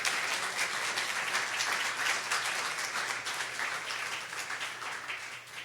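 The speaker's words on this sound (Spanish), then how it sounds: "Dale un aplauso al Rey bendito." A church congregation claps in a sustained wash of applause during a Spanish-language sermon, moderately loud and steady, fading slightly near the end, with a low constant hum beneath.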